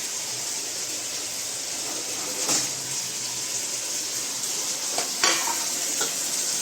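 Curry being reheated in a home kitchen pan, stirred now and then: a steady low sizzle with a couple of brief scraping stirs near the middle and end, close by, with no one talking.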